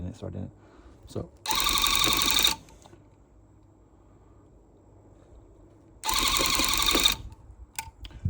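A handheld rug tufting gun punches wool yarn into a backing cloth in two loud, rapid mechanical bursts of a second or so each, separated by quieter handling noise.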